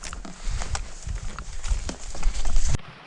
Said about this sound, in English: Leading an entire herd of cows.